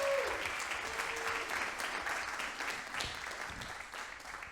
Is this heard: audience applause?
yes